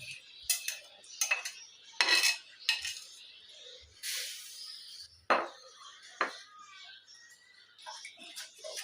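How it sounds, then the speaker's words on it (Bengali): Sugar syrup and mango puree stirred in a pot for mango juice, with a utensil scraping and clinking against the metal in irregular bursts and scattered knocks, close by and moderately loud, no talking. "ভালো করে মিশিয়ে নিচ্ছে"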